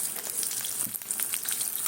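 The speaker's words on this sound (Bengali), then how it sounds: "একদম কড়া করে ভেজে নিতে হবে।" Food frying hard in hot oil until crisp, a dense continuous sizzle with stirring, close and steady without pause.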